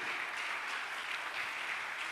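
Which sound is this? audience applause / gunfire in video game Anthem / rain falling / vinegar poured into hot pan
audience applause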